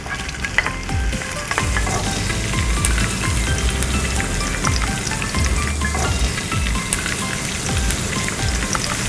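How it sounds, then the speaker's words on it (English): Garlic, chilies, ginger and spring onion stir-fry in hot oil in a pan, a dense, steady crackling sizzle with irregular spatters and occasional scraping stirs, close and loud throughout. "into a clean pan, put a little bit of oil. And I've got some garlic"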